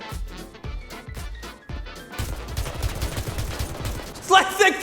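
Gunfire from infantry combat in War Thunder, a few distinct close shots followed by a dense stretch of rapid firing and scattered battle noise, with a voice speaking faintly underneath.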